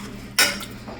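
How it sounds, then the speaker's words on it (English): A single brief clink of metal utensil against a saucepan as food goes in while cooking a coconut milk cranberry pork tenderloin, close and sharp over a faint steady background hum, no talk. "we're going to put this into our saucepan"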